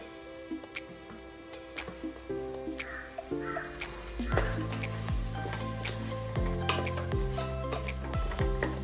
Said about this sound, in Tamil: இப்போ இந்த மசாலாஸை நல்லா வந்து பச்சை வாசம் போடுறது வரைக்கும் வதக்கிக்கோங்க